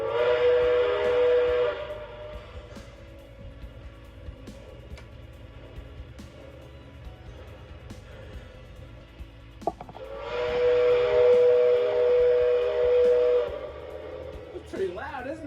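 Whistle of a K-Line O-gauge Western Pacific GS64 model train, two loud sustained steam-style whistle blasts separated by a quieter gap with low rumbling, and people talking softly near the end.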